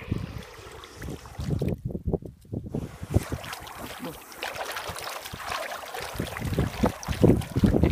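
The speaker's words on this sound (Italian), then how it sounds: "Andiamo ad aprire l'acqua per farlo spurgare." Water gushes and splashes through a Toro 730 series sprinkler while it is flushed, a rough, turbulent rushing with a short quieter gap before the flow surges back and carries on close to the microphone.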